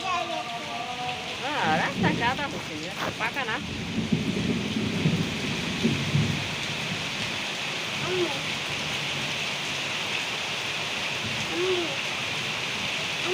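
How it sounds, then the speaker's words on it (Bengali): Steady heavy rain falls around a rural house in Shariatpur, Bangladesh, with low rumbling under the constant hiss, brief overlapping voices early on and a few faint hoot-like calls later. "অনেক বৃষ্টি হতেছে"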